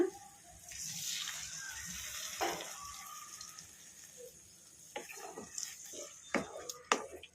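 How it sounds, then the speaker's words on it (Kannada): Soaked, squeezed tamarind water being poured into a curry masala, a soft running, splashing trickle followed by a few wet drips and clinks near the end, heard close with faint background noise. "ಈಗ ಈ ಹುಣಸೆ ಹುಳಿಯನ್ನು ಈ ಮಸಾಲಾಗೆ ಹಾಕ್ಕೊಂಬಿಡೋಣ."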